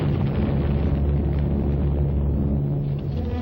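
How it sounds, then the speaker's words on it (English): Bombs from Allied British and American aircraft of the Eastern Air Command striking Japanese strongholds, a continuous heavy, muffled rumble of blasts on an old 1945 wartime film soundtrack. "The Allied Air Force of British and Americans in the newly formed Eastern Air Command bombed and strafed Jap"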